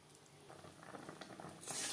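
Sweet raw mango chutney simmers in a pan, with faint, soft bubbling and light sizzling that swell briefly louder at the end.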